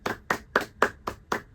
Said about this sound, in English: she gets the applause break that she's never gotten before